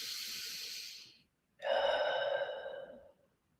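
Two slow, deep breaths during a guided breathing exercise: a long airy exhale fades out, a brief silence follows, then a fuller, louder breath that tapers away, close and intimate with nothing else heard.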